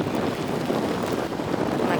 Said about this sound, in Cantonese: 逆大風。